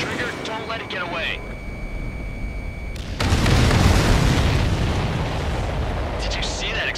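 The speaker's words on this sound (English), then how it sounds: "Did you see that explosion?" In the Ace Combat 7 flight game, a supply ship blows up with a loud, sudden roaring blast about three seconds in. The broad rumble sustains and slowly fades, following an earlier stretch of radio voices and a steady tone.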